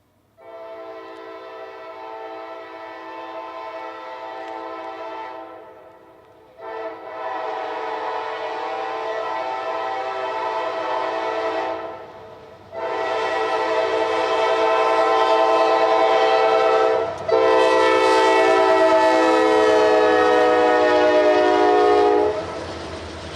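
An intermodal freight train led by AC44C6M locomotive 4000, a Dash 9 rebuild, sounds long loud horn blasts in four separated sections, close and growing louder, over a low rumble of the passing train.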